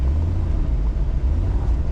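A Jeep Cherokee XJ, freshly fitted with a long-arm off-road suspension kit, pulls away on a test drive up a hill, its engine a loud, steady low rumble throughout.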